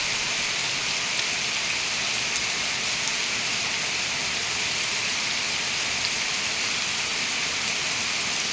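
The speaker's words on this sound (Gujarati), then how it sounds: "જુઓ તમે જોઈ શકો છો કેટલો વરસાદ છે." Heavy monsoon rain pours down in an unbroken, dense hiss, steady and enveloping for the whole stretch, with no one speaking.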